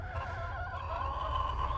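Chickens in a shaded garden chicken run cluck and murmur close by in a short, busy burst of overlapping calls, with no voices.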